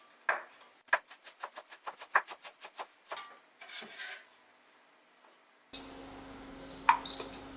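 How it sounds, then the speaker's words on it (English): A knife chops coriander on a board in quick, evenly spaced close taps, about a dozen in a steady run, then a few scraping strokes, followed by quieter kitchen handling and a faint hum. "Chop 10 grams of coriander."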